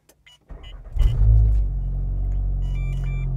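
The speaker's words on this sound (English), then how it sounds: "once I fire up the car" A VW MK7 Golf R engine starts up: a brief starter whir, then the engine catches with a loud rumbling flare and settles into a steady, deep idle close by.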